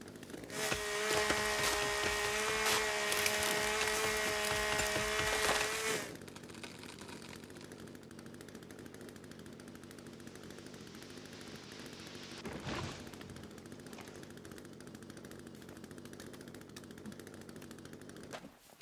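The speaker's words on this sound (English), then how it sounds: "let me see what this chainsaw does" A chainsaw revs loud and continuous in The Forest, a survival video game, for about six seconds, then cuts off, leaving quieter ambient game noise with a brief sharp sound later.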